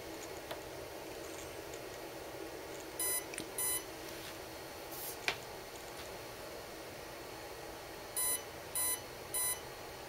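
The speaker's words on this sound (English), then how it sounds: "wait for it to do all 4 beeps" Short electronic beeps from a Kontronik Jive speed controller in setup mode sound in small groups, two early and three later, over faint steady hiss with a single click between.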